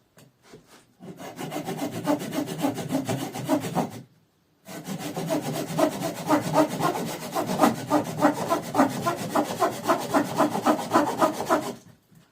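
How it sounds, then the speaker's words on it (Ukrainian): A Bahco Laplander hand saw rasps back and forth through wood in quick, even strokes, pausing briefly once before resuming at a steady pace. "ця пилка довше пиляє"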